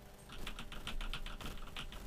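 Rapid clicking keystrokes on a DIY keyboard built for a Nexys FPGA board in a MEGA65 computer project, a steady close-up patter of key presses with no speech.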